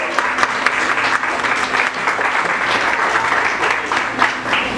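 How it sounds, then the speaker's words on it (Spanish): Audience applause at a live event, a dense steady wash of clapping from a crowd with scattered cheers, loud and continuous throughout. "Un aplauso, un aplauso, por favor."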